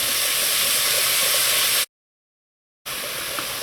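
Black beans seasoned with salt and black pepper sauté in a pot, giving a steady, close broadband sizzle that cuts out for about a second before resuming; no one speaks.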